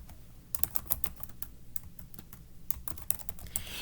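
Keys on a computer keyboard are tapped in quick irregular bursts, soft clicks at close range in a quiet room with no voices.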